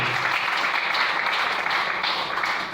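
Church congregation breaking into sustained applause, a dense wash of many hands clapping together at a steady, fairly loud level that tapers slightly at the end.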